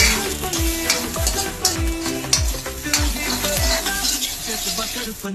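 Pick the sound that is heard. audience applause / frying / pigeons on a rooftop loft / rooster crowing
frying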